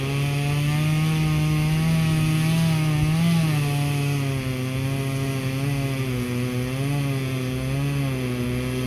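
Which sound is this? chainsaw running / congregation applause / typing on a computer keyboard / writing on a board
chainsaw running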